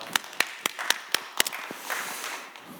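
A young adults' worship congregation offers a round of clapping in praise, heard as a few distinct sharp claps in a loose rhythm that soften into quieter scattered clapping.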